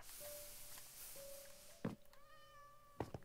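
Cat meows in the Minecraft video game: a few thin, drawn-out meows with quiet thumps between them, heard alone with no talking.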